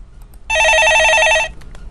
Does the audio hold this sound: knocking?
no